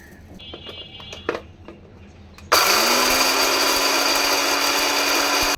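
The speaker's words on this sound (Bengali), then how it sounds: "এখন এগুলোকে ব্লেন্ডারে গুঁড়ো করে নিব" After a few quiet clicks and handling noises, a blender whirs on loudly grinding dried chillies and spices, its motor rising in pitch and grinding steadily until cutting off.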